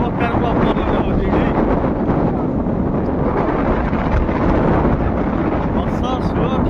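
Strong night wind on a sea shore buffets the microphone in a continuous loud roar, with a voice partly heard beneath it.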